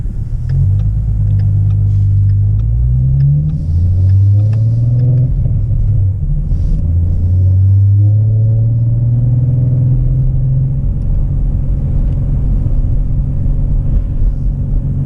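A loud, deep car engine rumbles continuously close by, its pitch rising and falling with a few revs, with no talking.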